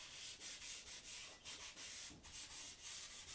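A drawing medium is rubbed into paper while drawing a cat, making soft, close, rhythmic scrubbing strokes that repeat rapidly and evenly with no talk.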